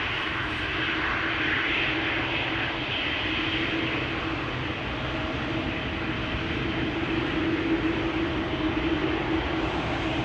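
A KLM airliner passes at Schiphol Airport, its jet engines giving a continuous, loud, broad roar that holds steady throughout with no voices.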